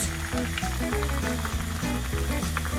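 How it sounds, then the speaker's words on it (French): Chicken and ginger meatballs frying in a pan, a steady dense sizzle holding throughout with soft clinks and some low tonal background sound underneath. "Puis je viens donc commencer la cuisson en le mettant dans ma poêle."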